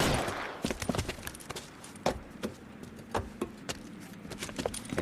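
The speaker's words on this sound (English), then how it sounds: "Oh wow, this is a shootout." A shootout in the video game L.A. Noire rattles out a string of sharp gunshots, some single and some in quick clusters, spread irregularly across the span with a brief burst of noise at the start.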